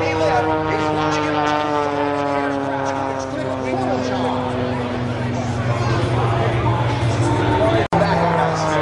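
Aerobatic propeller airplane performing at an airshow, a loud continuous engine drone whose pitch slowly shifts as it maneuvers, heard under a commentator's amplified voice.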